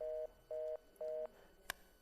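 Telephone busy tone after a call is cut off: three evenly spaced, steady beeps of equal length, fairly quiet, followed by a brief click.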